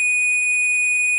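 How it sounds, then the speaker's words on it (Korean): A multimeter continuity buzzer beeps without pause while probing a capacitor across a bridge diode on an air conditioner indoor unit circuit board, one steady shrill tone throughout. "원래 이걸 이렇게 부저로 체크하면 캐패시터가 충전되는 시간 동안 삐 울리다가 딱 멈춰줘야 돼요"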